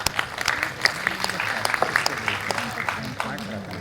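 Audience applause at a district-level math bee contest for seventh and eighth graders, a steady patter of many hands clapping through the whole stretch, moderately close, with a voice speaking lightly over it.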